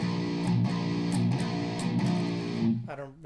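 A heavily distorted electric guitar churns thick, buzzing low-string chugs with pulsing palm-muted accents, heard loud and close, then cuts off with a brief squeal near the end.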